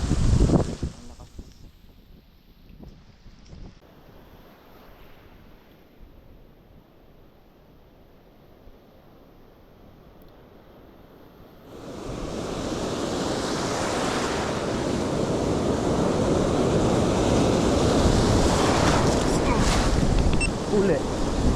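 Ocean surf and strong wind on the shore at Casiguran, Aurora, with a rough, whitecapped sea. Wind buffets the microphone at first, then waves surge in and hold as a loud, continuous roar.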